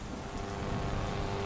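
Steady rain falling on a village road at night, a continuous even hiss of drops on surfaces with a low rumble underneath and no voices.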